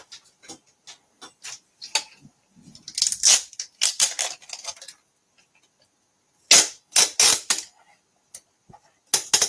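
Masking tape being pulled off the roll for a paper craft project, with several sharp crackling tearing bursts in quick clusters, separated by quiet gaps and scattered small ticks.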